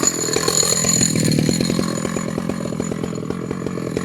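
A chainsaw idles in a forest while milling a cedar log, a close, rapid, rhythmic putter that stays fairly steady and softens slightly over a few seconds, with no talking.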